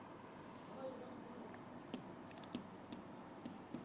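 A marker or chalk writes on a classroom board, producing faint scattered taps and scratches over a steady room hum, with a few sharper clicks near the end and no speech.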